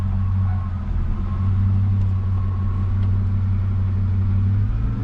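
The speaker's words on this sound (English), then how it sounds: "now I've got the rear tires in the air, so I'm just going to test the gearbox while I'm here" A manual Holden Commodore SS engine runs in gear with the rear wheels lifted off the ground, a loud, steady low drone with a faint rise in pitch near the end.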